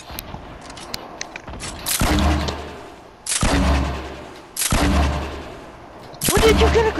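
Grenade launcher shots boom in a video game, four heavy blasts a second or so apart. Each is loud and close, with a rumbling tail, over a low background of game noise.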